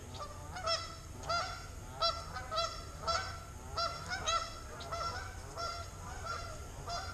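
Geese honking repeatedly in uneven bursts by the Wabash River, several birds calling over a low steady rumble, moderately distant.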